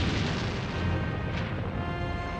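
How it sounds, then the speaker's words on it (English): Bombs from German bombers exploding over English cities in 1940, a dense, continuous roar of blasts and rumble filling the whole stretch, loud and close with no voices. "Adolf Hitler was determined to crush the last stronghold in Europe against Nazi Germany. His strategy: bomb England cities and people"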